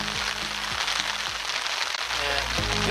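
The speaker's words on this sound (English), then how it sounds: "It is snow or hail, one of the two." Hail or snow shower falling on a lake, a steady dense patter of icy pellets hitting water and surfaces, close and continuous throughout with no break.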